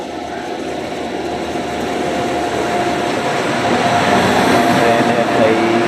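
A passenger train hauled by a WAG9H locomotive rolls past a quiet Indian railway station with a broad, steady rumble that swells louder toward the end; someone talks over it.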